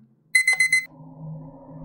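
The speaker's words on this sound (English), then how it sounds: "I need to turn that stupid alarm off first." A repeating electronic alarm rings out in a Minecraft horror map game, four quick bright beeps in a row, loud and close, then stops and gives way to a low steady hum.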